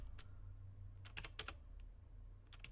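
Computer keyboard keys clatter in quick, irregular bursts of taps over a low, steady hum, quiet and close with no talking.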